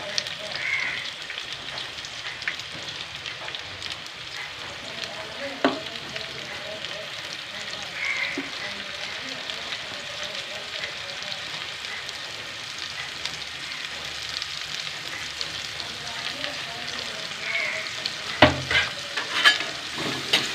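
Slices of raw plantain fry in hot oil with a steady, crackling sizzle and some stirring, while a person talks faintly in the background.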